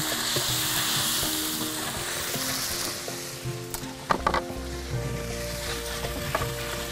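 Green chillies sizzle steadily in a hot frying pan, a continuous close crackle of frying with occasional stirring clinks and scrapes.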